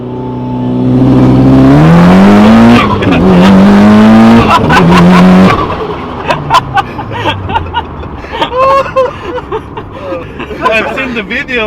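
Subaru WRX with a newly swapped used transmission doing a first-gear brake-boost launch: loud engine held at steady revs, then surging and bouncing off the limiter before pulling away, with tire noise and people talking inside the car.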